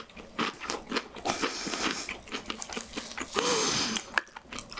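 Close-up mukbang eating of spicy octopus seafood stew and Cheetos-coated pork tomahawk, with bursts of tearing, crunchy biting and wet chewing in an irregular rhythm, plus some breathy sounds, with no speech.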